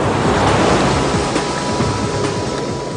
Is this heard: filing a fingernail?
no